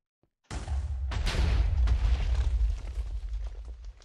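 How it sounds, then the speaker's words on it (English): TNT blasts go off in Minecraft: after a brief silence, a loud booming explosion erupts, followed by a second burst and a long crackling, rumbling tail of overlapping blasts. "Let's go down and watch the explosions."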